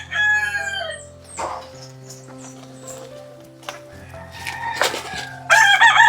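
Chickens at a grandfather's old house cluck and a rooster crows, with a loud crow at the start and another near the end, other calls scattered in between, over a steady low background hum.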